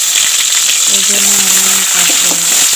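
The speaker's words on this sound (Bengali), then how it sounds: "গরম করে তেজপাতা দারচিনি এলাচ সব কিছু দিয়ে দিছি" Bay leaf, cinnamon and cardamom fry in hot oil with a loud, steady sizzle for a home-style potato and country chicken curry, while someone talks over it.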